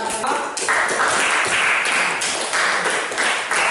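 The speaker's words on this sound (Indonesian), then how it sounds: "Silakan sekali lagi tepuk tangan untuk santai." An audience at a teacher-training session claps loudly and continuously for a few seconds, with dense, close applause in uneven waves.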